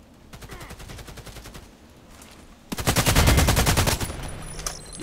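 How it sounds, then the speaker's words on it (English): Rapid automatic gunfire in the online shooter Contract Wars, a steady burst of repeated shots that swells into a loud, dense volley partway through, with no talk over it. "I'm shooting."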